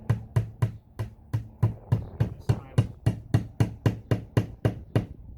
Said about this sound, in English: don't hammer it in all the way